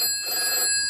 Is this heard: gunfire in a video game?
no